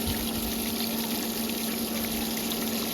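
A swimming pool sand filter pump runs with water flowing through it, a steady mechanical hum with a constant tone over continuous gurgling flow, close and unchanging throughout.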